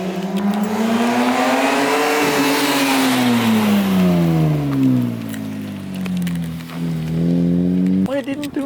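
A car engine revs up and down in long rising and falling sweeps, close and loud, then cuts off abruptly near the end.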